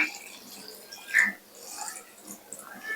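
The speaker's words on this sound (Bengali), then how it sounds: "ওখানে পানিটা দিয়ে দেবো" Hot water splashes into a pot of cooking mutton with boiled potatoes, soft and intermittent, with a few brief pours rising and fading.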